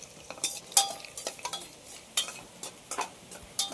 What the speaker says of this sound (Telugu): బావా నెయ్యి అయితే వేడైంది కదా, డ్రై ఫ్రూట్స్ వేసుకొని ఫ్రై చేసుకున్నాం.